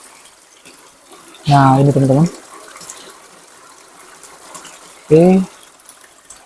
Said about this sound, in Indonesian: di bawahnya ada 2 air pancuran